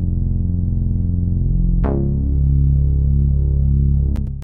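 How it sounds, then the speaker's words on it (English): Deep synth bass holds a low droning tone, then a new note strikes with a sharp attack and rings on loud and throbbing, ending with a short click. "the last sound is just this bass"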